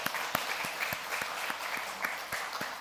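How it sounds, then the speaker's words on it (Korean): A church congregation claps for a newlywed couple during a Sunday worship service, giving steady, moderately loud applause with sharp individual claps standing out throughout. "우리 박수로 한번 격려하죠"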